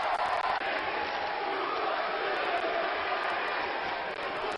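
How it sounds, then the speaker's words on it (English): A wrestling arena crowd chants Suplex City in a steady, dense roar of many voices, constant and loud throughout. "But listen to the crowd."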